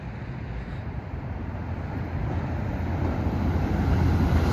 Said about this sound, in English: here comes San Joaquin train 710